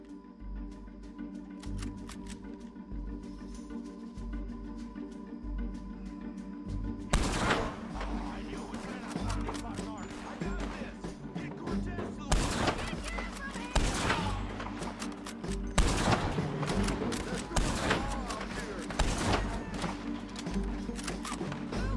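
Volleys of gunfire in the Western video game Red Dead Redemption II, with sharp repeated shots crackling loudly over ambient game sound, building into dense bursts after a quieter opening.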